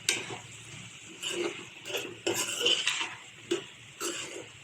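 A spoon scrapes and clinks against a pan as a guar bean and potato vegetable dish is stirred from the bottom, in short irregular strokes, close by and with no talk.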